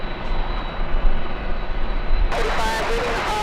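A jet airliner idles at LAX awaiting takeoff clearance, a steady broad engine roar that swells and brightens partway through, heard from a distance without talk.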